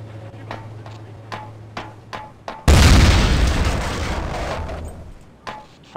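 A grenade or tripmine blast in Half-Life Poke646 booms loud and sudden, its broad roar decaying over a few seconds, after a run of sharp rhythmic ticks and clicks.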